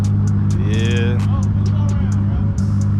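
A boosted car's engine idles steadily at a car meet, a loud, deep rumble held throughout, with people talking over it and sharp clicks and chirps popping up above the idle.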